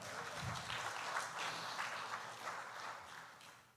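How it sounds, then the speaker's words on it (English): A crowd at a church dessert auction claps quietly with a soft, even wash of applause that fades toward the end. "Give them a big round of applause."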